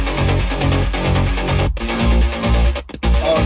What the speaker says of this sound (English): So when we have our bass line, sounds like this.